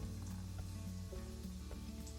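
Vegetable lumpia frying in oil gives a dense, steady sizzle with faint crackles and a low hum underneath, close and continuous with no voices.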